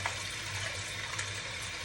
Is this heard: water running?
yes